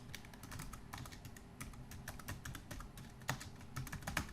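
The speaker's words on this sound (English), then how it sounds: "now we just type into the text and we start typing" Someone types on a computer keyboard while building a WordPress landing page, giving close, fast, irregular key clicks in quick bursts with brief pauses, and no one talks.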